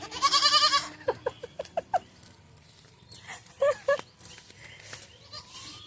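A loud goat bleat up close, followed by a series of short clucks and another brief bleat against quiet background.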